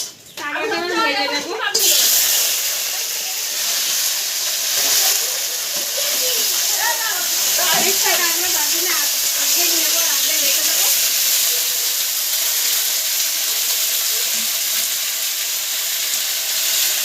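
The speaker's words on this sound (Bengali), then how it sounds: "এবার কাঁকড়াটা ভেজে নেব।" Crab from the Sundarbans sizzles in hot oil in a pan, a loud steady hiss that carries on throughout, with someone talking over it.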